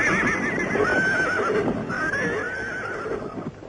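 White stallions neighing and whinnying in a 1960s film scene, several loud, close whinnies over a busy background with hooves clip-clopping.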